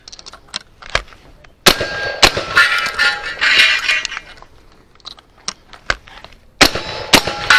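Rifle shots in a cowboy action shooting match ring off steel targets, a string of sharp cracks each followed by a metallic clang, with quieter gaps between clusters of shots.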